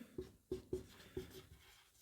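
Chalk taps and scratches on a board in a few short, soft strokes, quiet and close, with no voices.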